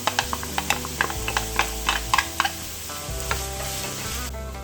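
Green onion and bell pepper get stirred into a pot of stewing Caribbean oxtail, with quick repeated spoon taps and scrapes against the pot over a steady bubbling sizzle, close and without speech.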